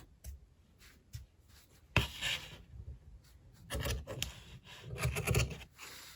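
Crochet yarn is scraped and rubbed by hand while finishing a crocheted scarf, making soft, irregular scratchy strokes that grow busier and louder in the second half, close and alone with no talk.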